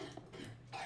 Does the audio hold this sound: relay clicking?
no